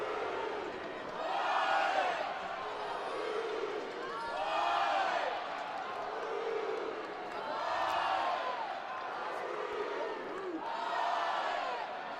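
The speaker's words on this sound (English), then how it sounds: "And the Crowd coming to life truly for the first time tonight here at Dudy Noble." A large baseball crowd at Dudy Noble stadium roars and cheers in rolling swells, loud and sustained, with a commentator's voice faintly mixed in.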